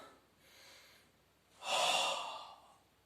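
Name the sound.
exhaling during a Pilates exercise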